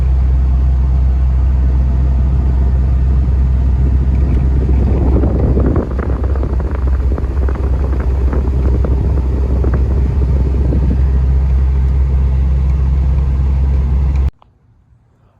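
A restored Porsche 944 runs with a steady, loud low engine rumble and wind noise for about fourteen seconds, a burst of rattling texture partway through, before cutting abruptly to near silence.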